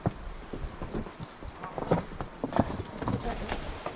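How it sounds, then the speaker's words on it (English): A horse walks on a desert trail in the fall, its hooves making an uneven, close clip-clop rhythm, with voices faintly underneath. "trying to get this little black horse to climb up in that tree with him"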